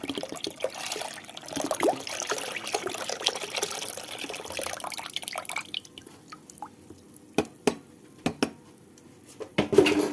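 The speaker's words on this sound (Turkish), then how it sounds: "Sütümüzü tencereye boşaltıyoruz öncelikle." Milk pours and splashes into a metal pot for making kazandibi pudding, a continuous wash that stops, followed by a few sharp clinks of cookware.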